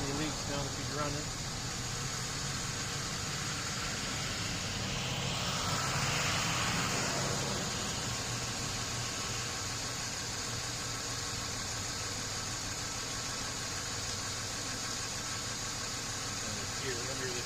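A car engine idles steadily during a transmission fluid leak check, a low constant hum with a faint broadband hiss, quiet and unchanging throughout.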